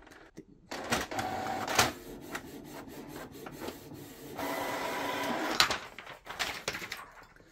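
A Canon MG2551S inkjet printer runs through a print job: mechanical whirring and sliding passes, clicks and feed sounds come in bursts with short pauses, close and fairly clear, with no talk.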